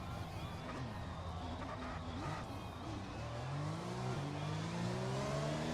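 A race car in the F1 2021 video game spins at the Hungarian Grand Prix, its engine droning loudly with shifting revs and a tyre squeal running through a continuous wash of car noise.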